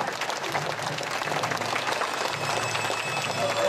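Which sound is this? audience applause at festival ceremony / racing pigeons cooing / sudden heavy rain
audience applause at festival ceremony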